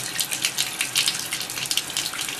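Tap water runs steadily into a sink while a makeup sponge is rinsed and worked under the stream, a close, continuous splashing hiss with small surges as the sponge moves.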